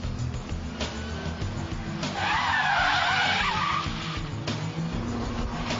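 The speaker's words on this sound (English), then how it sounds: "the handbrake turn, the 90-degree handbrake turn, the handbrake turn followed by reverse flick" A car drifting through handbrake turns, tires skidding and squealing in a loud sustained screech that swells midway over a steady engine rumble, with no talking.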